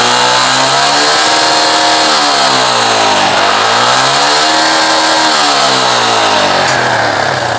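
A Yamaha RX King two-stroke motorcycle engine fitted with an Air-X carburetor revs loudly and close, its pitch rising and falling in several smooth sweeps with no talking.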